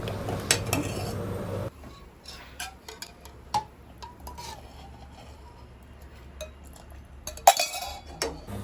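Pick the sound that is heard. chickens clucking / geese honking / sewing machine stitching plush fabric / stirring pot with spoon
stirring pot with spoon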